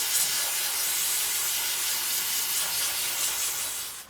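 Carburetor cleaner sprayed from an aerosol can onto a Yard Machines 639RL mower carburetor: one steady, close, loud hiss lasting the whole few seconds with no other sound.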